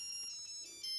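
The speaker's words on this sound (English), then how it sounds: "Can anybody hear a ringing? I can. Byron, yes. It must be your mobile phone." A mobile phone ringtone chirps steadily for a moment, a thin electronic tone with no voices around it.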